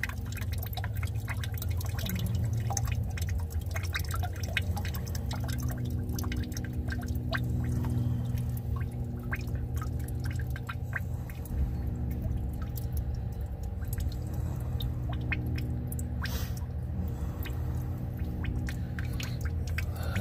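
Continuous wet dripping and trickling of water from a 1976 Ford F-250 truck over a low rumbling background, steady and fairly close, with no voices.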